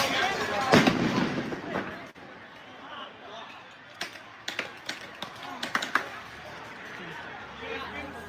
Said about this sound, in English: Oh, gunshot coming from up top.